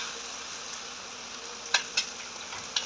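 Chicken and egg frying in a pan for bibimbap: a steady bright sizzle throughout, with a few sharp clicks of stirring or utensil contact near the end, no talking.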